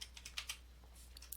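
A password is keyed in on a computer keyboard: a short run of quiet, close clicks, about eight keystrokes in quick, slightly uneven rhythm, heard alone over a low hum.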